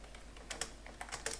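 Code is typed on a computer keyboard in a short, quiet burst of about eight to ten close key clicks at an uneven rhythm, with no voice.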